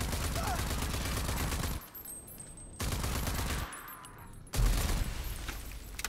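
Rapid bursts of automatic gunfire in the video game RAGE 2 come in three loud, dense stretches separated by brief quieter gaps, with faint speech in between.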